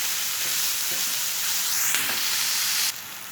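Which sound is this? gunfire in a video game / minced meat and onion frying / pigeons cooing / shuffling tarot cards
minced meat and onion frying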